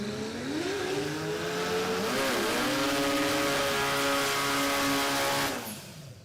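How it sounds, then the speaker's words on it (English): Ford drag race cars blasting down Warwick Dragway in Australia, a sustained loud engine roar with rising, shifting pitch that fades away near the end, heard from trackside. "All Fords down the track right now."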